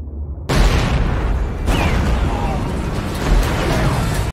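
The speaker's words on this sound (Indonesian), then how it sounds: "kapal sekutu tadi menenggelamkan banyak bom yang meledak di sekitar kapal selam Jerman" In a film, bombs explode around a German submarine, heard as a heavy boom that cuts in suddenly, then a second blast and a sustained loud rumbling roar.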